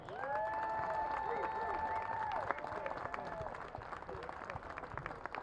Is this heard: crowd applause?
yes